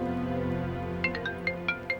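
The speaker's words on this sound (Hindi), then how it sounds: "बारान कॉल कर रहा है।" A mobile phone ringtone for an incoming call in an Urdu-dubbed Turkish drama, a short melodic pattern of bright tones starting midway and repeating quickly over a soft, sustained musical background.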